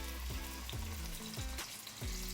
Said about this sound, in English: we're gonna lay down our steak.